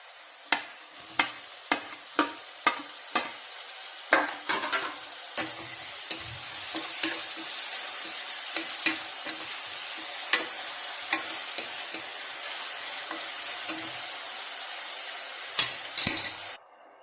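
Tomato frying in a pan for a mushroom dish, a constant loud sizzle with a regular series of sharp spatula taps and scrapes against the pan, thinning out toward the end.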